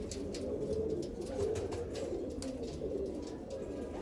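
Soft, low pigeon coos repeating in a steady rhythm, fairly close, over a faint background hum.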